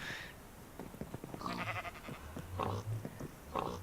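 Sheep bleating in a modded Minecraft world (FTB Ultimate), a few short wavering bleats from nearby over a low background hum.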